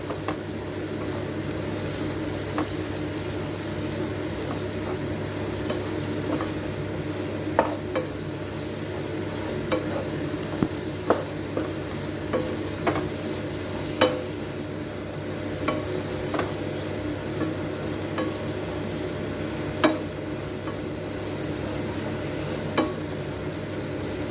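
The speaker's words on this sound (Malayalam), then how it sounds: "ആ തക്കാളിയുടെ ഒക്കെ ഒരു പച്ചമണം മാറണം. അതുവരെ ഇളക്കി കൊടുക്കാം." Tomatoes fry in a pan and are stirred until their raw smell cooks off. A loud, steady sizzle runs throughout, broken by sharp spoon taps and scrapes at irregular intervals, with no talking.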